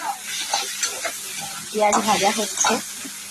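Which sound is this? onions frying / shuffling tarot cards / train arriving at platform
onions frying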